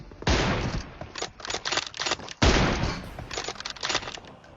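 M24 sniper rifle gunfire in a video game team deathmatch, with two loud, sharp shots near the start and midway, followed by denser crackling bursts of fire.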